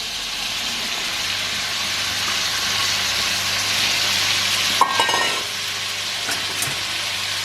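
Pork neck with chopped vegetables, ginger, onions and herbs sizzles steadily in a hot pan for an Irish stew, with a brief scrape and clatter of a spoon stirring midway.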